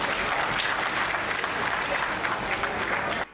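A crowd at a Hindi comic poetry recital claps loudly and continuously, a dense wash of applause that cuts off abruptly at the very end.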